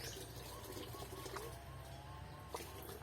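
Water is poured gently onto the soil of a potted Aglaonema plant, making a soft continuous trickle and splash. It sounds faint and close, with a faint bird call or two in the background.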